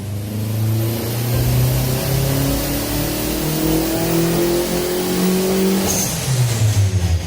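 A tuned 600-hp Toyota C-HR race car engine revs loudly and close for several seconds, with sustained rising engine pitch and a throaty tone, ending in a short burst of choppy, stuttering pops.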